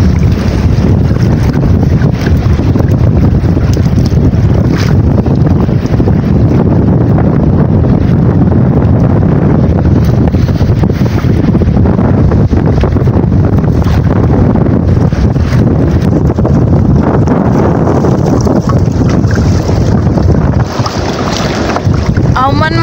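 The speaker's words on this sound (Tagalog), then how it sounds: "Tignan niyo po yung alon mga kasisters, naglalakihan." Big waves crash on a rocky shore under strong wind, with a steady, loud roar of surf and gusting wind buffeting the microphone for the whole stretch.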